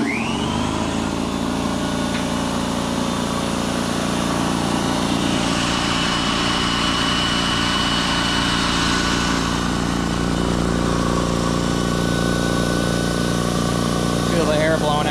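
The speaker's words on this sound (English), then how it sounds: "So let's go ahead and turn it on" DeWalt 27 gallon oilless air compressor running, a loud continuous motor drone with a steady buzzing rhythm that holds throughout, starting up at the outset with a rising whine.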